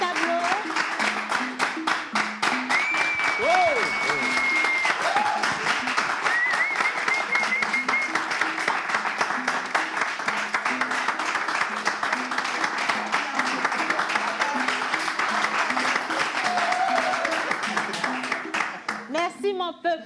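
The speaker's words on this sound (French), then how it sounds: "Allez, on commence, on applaudit." An audience applauds at the unveiling of a painting, with dense steady clapping that runs throughout under loud talk and excited voices, then thins near the end.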